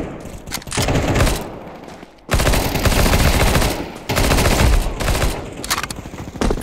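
Rapid automatic gunfire in Counter-Strike 2 deathmatch on Dust 2, loud close bursts of rattling shots in three long strings separated by brief gaps.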